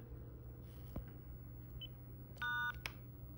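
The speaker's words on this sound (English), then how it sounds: "And you should hear a beep." A brief multi-tone electronic telephone beep, heard after dialing an Xband modem service number, sounds alone over a steady low hum, with a short click just after.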